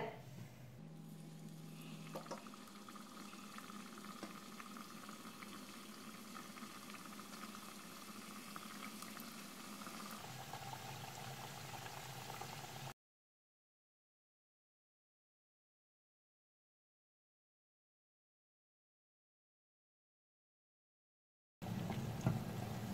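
Homemade biscuits fry in hot oil in a frying pan, giving a steady, close bubbling sizzle that runs unbroken, then cuts out to silence before briefly returning.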